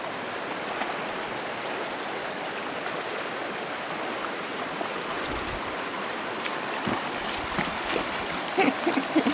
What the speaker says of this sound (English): That good river water.